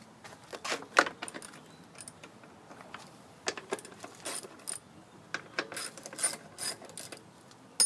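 A hand ratchet loosens 8mm bolts on the upper handle of a Bolens push mower, with rapid, close, uneven metallic clicking bursts that start and stop as the tool is worked.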